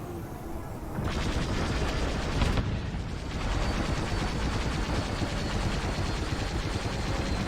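Dense, continuous starfighter blaster fire and explosions in the space combat game Star Wars: Squadrons, a loud, steady barrage that begins abruptly and continues without pause.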